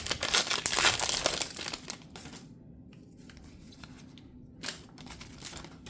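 Pokémon card booster pack being opened, with loud crinkling and tearing of the foil wrapper in the first two seconds, then quieter rustling and a brief crinkle near the end.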